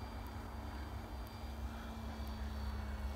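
A Max Thrust Ruckus radio-controlled model airplane flies overhead, its faint, steady electric motor drone holding an even pitch against soft outdoor background noise.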